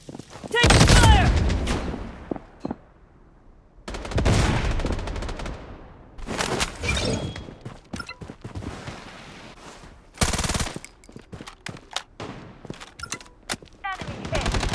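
Rapid bursts of automatic gunfire crackle in the Blood Strike video game, coming in loud volleys separated by short gaps, with sharp single shots in between and voices calling out over the action.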